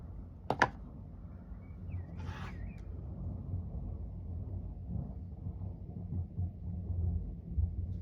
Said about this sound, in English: Can you hear that thunder out there?